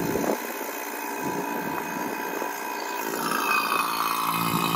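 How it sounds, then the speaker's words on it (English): A vacuum pump runs steadily while evacuating a car air-conditioning system before a refrigerant recharge, a continuous droning hum with a high whine, close and fairly loud, with no talking. "The pump runs smoothly."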